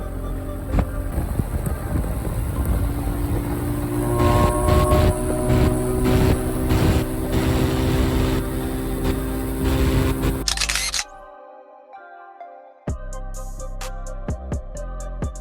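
A Musstang MT125-2 Alpha motorcycle runs flat out at top speed, a loud sustained engine drone buried in heavy wind buffeting on the microphone, cutting off abruptly near the end.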